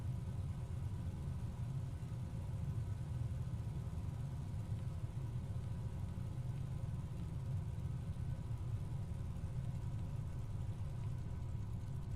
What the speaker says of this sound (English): Well, it still seems to be idling